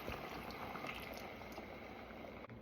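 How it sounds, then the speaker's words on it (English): Marinade with garlic pours into a cooking pot in a Filipino dish, a steady close liquid splash and sizzle-like wash with no speech. "I'm going to pour the remaining marinade with the garlic into the pot"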